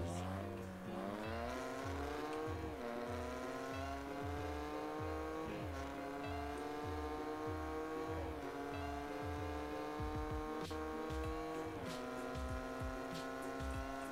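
A steady, droning car engine in Car Parking Multiplayer revs up and shifts gears repeatedly, its pitch climbing and dropping in a continuous loud whine.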